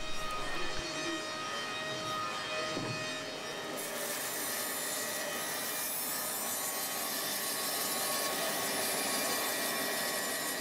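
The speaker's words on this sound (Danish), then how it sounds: "Og så er det den lille båndsave" Small band saw cutting wooden planks in a workshop, a steady rasping, whining cut running continuously and fairly quietly for about ten seconds.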